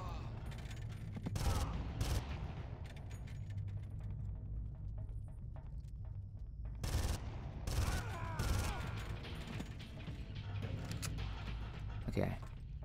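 Gunfire in the video game Far Cry, set in a lab area: scattered sharp shots and short bursts over a low rumbling background, with someone talking over the action.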